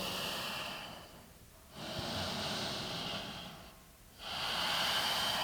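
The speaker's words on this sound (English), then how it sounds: "Notice the sound of your own breath." Slow, deep breaths during a yoga downward facing dog pose: two long airy exhales, each followed by a quiet pause, close and fairly soft, with no talking.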